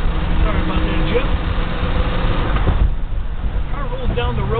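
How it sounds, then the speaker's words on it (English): A 1971 Plymouth Roadrunner rolling down the road, its engine and tire rumble heard from inside the car as a steady low drone, with talking over it throughout. "Car rolls down the road pretty good."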